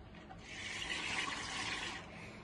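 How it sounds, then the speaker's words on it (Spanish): Someone blows through a straw into water mixed with detergent, making a steady, faint bubbling hiss. It runs continuously for a couple of seconds with no talking. "y se van haciendo burbujas."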